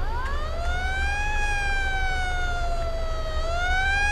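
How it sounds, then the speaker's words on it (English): A truck's siren in Farming Simulator 22 wails loud and close, its tone sweeping up then holding and slowly dipping in a smooth electronic rise and fall over a steady low engine rumble. "Activates the siren, and then you can put on the lights if you want."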